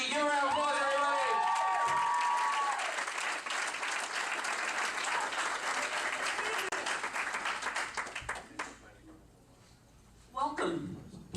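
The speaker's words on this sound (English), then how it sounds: "Give her a round of applause, everybody." A comedy club audience bursts into loud applause and cheering, with a host's voice over it at first, then sustained clapping that dies down before a voice speaks again near the end.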